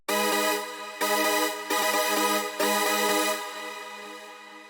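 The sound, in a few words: bouncy detuned synth chord preset, bigroom climax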